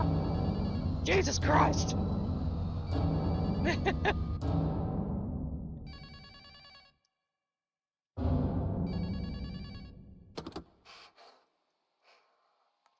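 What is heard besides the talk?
telephone ringing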